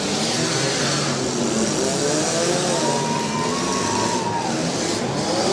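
A demolition derby car's engine roars and revs loudly and steadily at a Portage County derby, with a wavering engine tone rising and falling over dense crowd and arena noise.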